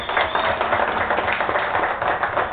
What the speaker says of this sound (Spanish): yo quiero pedir un fuerte aplauso para ustedes, por favor